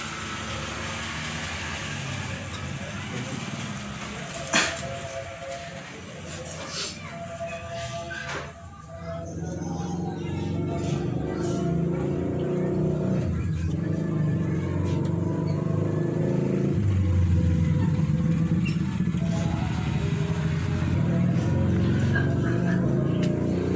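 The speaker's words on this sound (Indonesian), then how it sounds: "Ini mesin udah nyala ya. Ini mesinnya udah nyala." A car engine idles steadily at close range with a low, continuous hum, while a person talks over it and a few clicks and shuffling sounds come and go.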